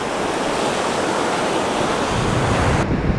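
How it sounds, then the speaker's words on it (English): Ocean waves break on a beach at False Cape State Park in a continuous loud surf roar mixed with wind noise on the microphone. "Hey, ocean."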